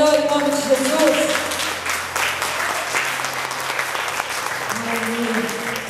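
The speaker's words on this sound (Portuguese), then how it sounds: "Você pode aplaudir ao Senhor em nome de Jesus?" A church congregation claps together during a worship service, dense sustained applause mixed with crowd voices and background music tones, loud and close, with talking underneath.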